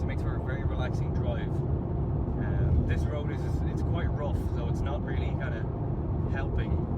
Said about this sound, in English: you can probably hear a lot of road noise